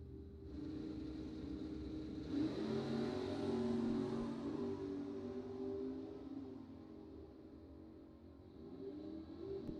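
A drag race car engine at a bracket drag race revs steadily and loudly, swelling to a stronger roar midway before settling back to a sustained idle drone, with no talk over it.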